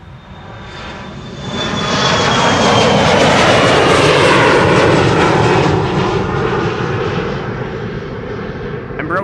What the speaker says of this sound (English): Embraer 175.